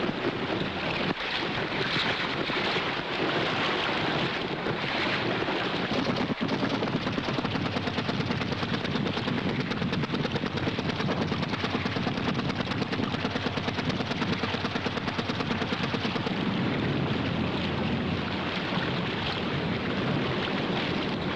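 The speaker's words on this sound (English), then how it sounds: "a fast run with the wind singing in the canvas and the rigging" Wind gusting through the canvas sails and rigging of a sailboat under way off Newfoundland, a steady loud rushing roar with low buffeting that holds throughout, with no voices.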